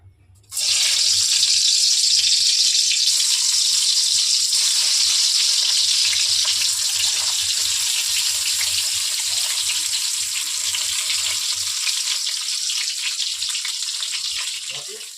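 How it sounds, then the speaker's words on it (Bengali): Steady loud sizzling of eggplant and pumpkin slices frying in hot oil, a dense hiss that starts abruptly and continues throughout. "তেল গরম হয়ে গেছে আর আমি এখন এই যে বেগুন ভাজা কুমড়ো ভাজা এগুলো করব"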